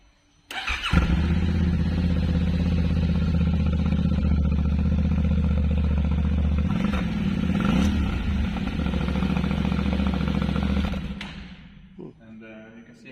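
A Yamaha motorcycle engine cranks and starts in a showroom, settles into a loud idle with a couple of revs, then cuts off, followed by a few clicks.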